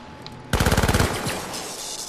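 Close, loud burst of rapid automatic gunfire in the Syndicate video game, about a dozen sharp shots in half a second, then a trailing rumble and lower game noise.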